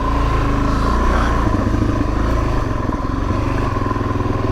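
A 2019 Suzuki DRZ 400S motorcycle engine runs steadily and close up on a short ride at an old track, a continuous loud drone with a little clatter and no talk.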